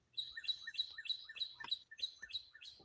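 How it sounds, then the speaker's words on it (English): Pet birds in a home chirp in quick, regular, high-pitched tweets that repeat steadily through the whole moment, faint and alone with no voices. "There, you can hear the birds now."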